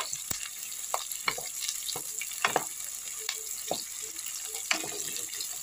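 Green chillies sizzle in hot oil with onions and capsicum, a quiet steady hiss broken by scattered light pops and taps of a spoon, close and fairly soft throughout.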